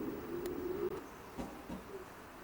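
Racing pigeons in a brick-built stock loft give a low drawn-out coo followed by a few softer, shorter coos, faint and somewhat distant over a quiet room tone, with no voices.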